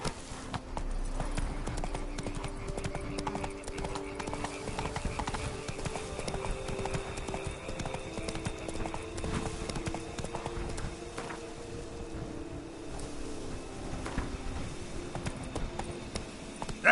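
Roach, the horse in The Witcher 3, galloping: a rapid, steady clip-clop of hooves running continuously for many seconds, mid-distance, over game ambience.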